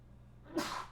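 One short, sharp human sneeze in a quiet room, a soft intake followed by a quick burst.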